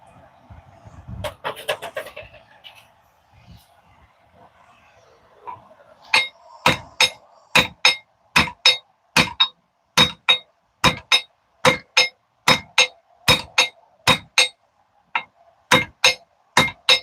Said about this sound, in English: While it was hot, started peening it over.